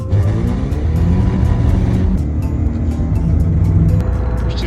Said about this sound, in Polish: Wciśnij sprzęgło i gaz do dechy